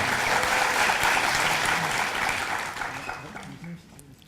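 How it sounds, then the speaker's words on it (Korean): Audience at a Korean debate forum on nuclear phase-out claps loudly to welcome a party leader, a dense burst of applause that fades toward the end with a few faint voices. "큰 박수로 환영해 주시기 바랍니다"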